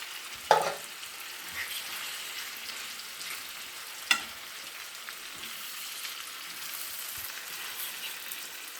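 Callaloo and saltfish stirred together in a pan, Jamaican style: a soft, steady sizzle runs throughout, with two sharp clinks of a utensil against the pan near the start and middle.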